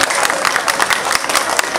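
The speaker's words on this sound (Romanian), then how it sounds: "vă rog să-i aplaudați" A crowd at the 2018 Bălănești commune days festival in Gorj claps vigorously, a loud, dense burst of many hands with rhythmic peaks, close and sustained.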